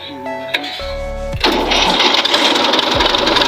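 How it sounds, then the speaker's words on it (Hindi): A farm tractor engine cranks and catches after trouble with stalling and cutting out, turning into a loud, steady running clatter close by. "फाइनली ट्रैक्टर स्टार्ट हो गया हमारा"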